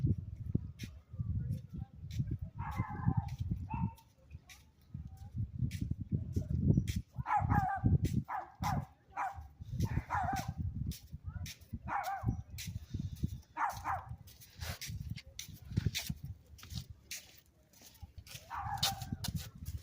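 A small gray dog barks repeatedly on Balboa Island, sharp yips coming in uneven bursts over steady low street rumble and nearby footsteps, with people talking in between.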